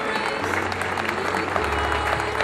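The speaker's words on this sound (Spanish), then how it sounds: "demos un fuerte aplauso a la señorita Marlene Alejandra" An audience claps loudly and continuously as a young woman enters, with dense, steady applause and a low hum of music underneath.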